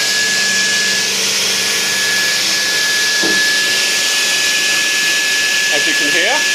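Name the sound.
Knapp ProfiT 410 woodworking saw running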